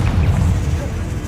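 Confringo blasting spell going off in Hogwarts Legacy, a loud, dense booming burst with a heavy low rumble that rolls on without a break for over a second.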